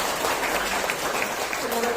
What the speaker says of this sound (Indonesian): Mari kita sama-sama beri aplaus untuk